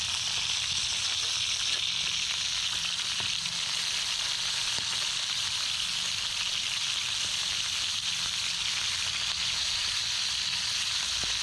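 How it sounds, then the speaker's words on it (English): Hamburgers sizzle steadily over an open cooking fire with a grease fire flaring beneath them, a dense, continuous crackling hiss that stays loud and even throughout with no voices. "So, got a little bit of a grease fire going."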